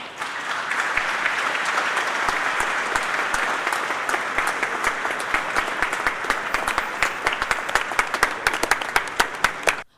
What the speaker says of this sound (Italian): l'abbraccio della città che lo accoglie con un lungo applauso